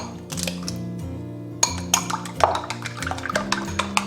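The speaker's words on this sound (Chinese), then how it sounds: "碗中打入2个鸡蛋，搅散" Two eggs are beaten in a bowl, heard as irregular light clinks and taps against the bowl that quicken in the second half, over steady background music.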